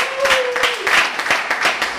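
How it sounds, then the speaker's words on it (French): A lottery-night crowd applauds a prize winner who has just won a clothes dryer, with brisk clapping over a short stretch and a voice talking briefly over it. "on peut l'applaudir, il a gagné un sèche-linge"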